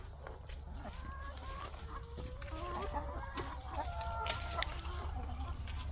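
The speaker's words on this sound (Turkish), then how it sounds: "Bir de tavukların limon yediğine şahit oluyorum." Chickens clucking steadily in a lemon orchard at harvest time, with overlapping calls and short squawks over a constant low rumble, moderately near, no talk.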